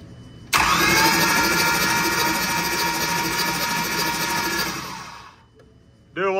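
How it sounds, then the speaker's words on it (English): A diesel motor with a locked-up CP4 fuel pump failure is spun over on the starter, giving a loud, steady cranking whir for about five seconds that then winds down, followed by a brief second burst at the end. "After we spin this motor over with the starter, make sure everything's smooth in it"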